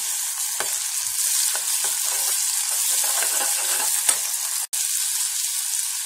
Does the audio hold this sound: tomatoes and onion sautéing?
yes